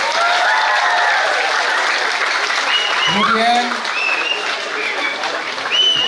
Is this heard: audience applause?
yes